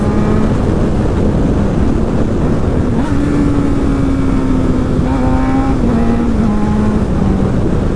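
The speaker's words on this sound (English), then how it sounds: "see here I'm blipping the throttle in between downshifts" A sport motorcycle's engine revs up and down in short bursts as the throttle is blipped between downshifts while slowing, steady loud rumble throughout, with wind noise across the microphone.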